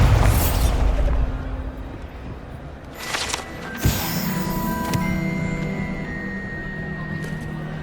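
Spell explosions from Confringo and Bombarda in the game Hogwarts Legacy go off as a heavy rumbling blast that fades, then a sharper burst and crackle follow, trailed by a lingering ringing tone.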